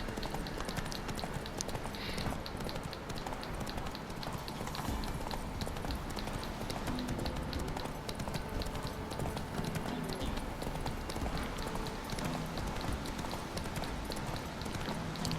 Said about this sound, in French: Voilà, c'est bon, on galope.